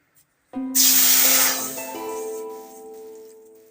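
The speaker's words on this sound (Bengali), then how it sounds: "তো এখন আমি কড়াইয়ে জল দিয়ে দেবো।" Water poured into a hot kadai (wok) sets off a sudden loud hiss and spray with a ringing metallic tone, then slowly fades over a few seconds. No one speaks.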